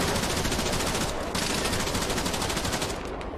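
Sustained gunfire rings out from inside a tower in the game Arma 3, loud, rapid automatic bursts overlapping into a continuous stream with no pause.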